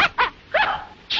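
A small dog whimpers and yips in short, whiny bursts, about four close, high-pitched cries separated by brief pauses, in a comedy film scene.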